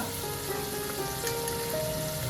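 Onions frying in a pan for a raw-mango curry, a continuous close hissing sizzle that stays steady and dense throughout, with no voices.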